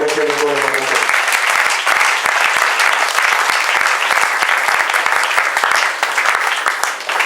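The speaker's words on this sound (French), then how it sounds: "applaudissons pour le Seigneur" A church congregation claps steadily for the Lord during a sermon, dense applause filling the room throughout after a brief spoken or sung phrase at the start.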